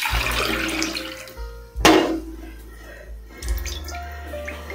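Two measured glasses of water are poured into a pan on the stove, a splashing gush that swells then tapers into trickles and drips, quiet apart from the water.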